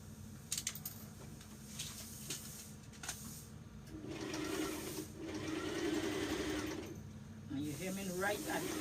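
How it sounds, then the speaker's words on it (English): A sewing machine runs faintly, stitching a dress hem right at the fabric edge. A low mechanical whir with a soft rhythmic pulse builds through the middle and returns near the end under a quiet background hiss. "So now we hem in the dress, and right at the edge of the dress"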